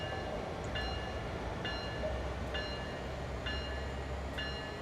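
A freight locomotive hauling 160 loaded cars in Train Sim World 4, a steady low engine rumble with a regular metallic clicking roughly every second, heard alone at a constant level.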